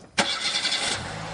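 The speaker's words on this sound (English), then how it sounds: "Start the car." A car engine cranks and catches with a sharp burst of starter noise, then settles into a steady, fairly close idle that drops in pitch after about a second.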